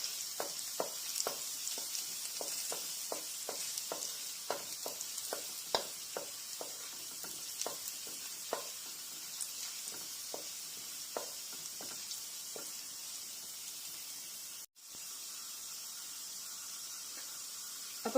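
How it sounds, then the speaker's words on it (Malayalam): Garlic frying in a pan toward brown while being stirred, a steady close sizzle broken by regular scraping clicks of the spoon, with a brief dropout near the end. "ഇത് ഗാർലിക് ചെറുതായിട്ട് ബ്രൗൺ ആവണ വരെ ഇത് നല്ലപോലെ"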